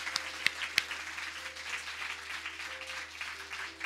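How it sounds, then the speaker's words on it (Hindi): A church congregation applauds together, a soft, sustained patter of many hands clapping at moderate distance after a few sharper single claps. "यीशु मसीह के लिए जोरदार तालियां बजाएंगे"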